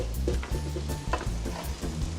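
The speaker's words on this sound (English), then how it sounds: "Give them a good stir in." Noodles and bean sprouts are stirred in a hot pan, sizzling under repeated scraping and tossing strokes at close range, with no one talking.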